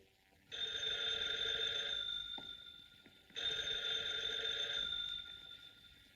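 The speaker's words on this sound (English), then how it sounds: "I just received a mysterious phone call about Uncle Martin." An old-fashioned telephone bell rings loudly in two long electric bursts with a short gap between them, set in a 1940s serial scene.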